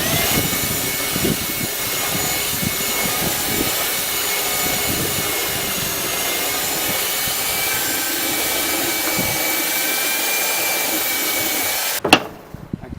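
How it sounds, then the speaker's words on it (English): A belt sander smooths burrs off a homemade kiteboard post-cure oven rocker former, a steady loud whining roar running continuously for about twelve seconds before cutting off abruptly, followed by a few brief knocks. "Cleaned it all up, the belt sander, got all the burrs off"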